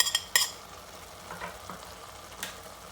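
Minced meat (keema) fries in a pan with a soft, continuous sizzle, broken by a few sharp clinks and scrapes of stirring near the start and another near the end.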